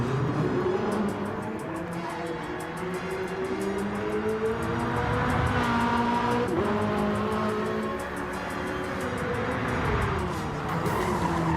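A race car in Gran Turismo 7 revs and shifts through gears, with rising and falling engine pitch, brief tire squeal and skidding, loud and continuous throughout.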